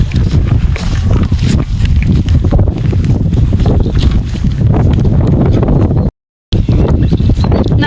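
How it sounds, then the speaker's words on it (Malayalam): Strong wind roars across a bare rock hilltop in the rain, a loud, continuous buffeting rush hitting the microphone, broken by a brief silent dropout near the end. "നല്ല കാറ്റും മഴയുണ്ട്"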